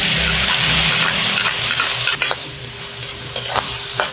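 Ground pork, boiled beforehand, browns in a pan for adobong sitaw, sizzling and frying loudly while a utensil stirs and scrapes in short bursts against the pan.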